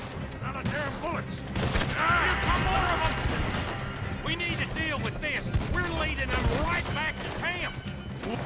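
Gunfire in Red Dead Redemption 2 during a shootout: steady volleys of rifle and pistol shots crackle throughout, loud and continuous, with someone talking over the fighting.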